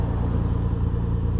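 A 1991 Nissan Skyline GT-R driving along, its engine a steady, loud low rumble that holds constant throughout with no talking.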